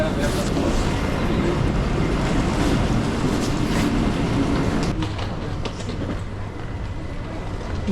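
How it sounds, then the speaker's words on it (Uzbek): A fast train passes at Stockholm station, a loud continuous rumbling roar with rhythmic rail clatter that eases slightly halfway through, while voices are faintly present. "Bu tez yuradigan poyezd."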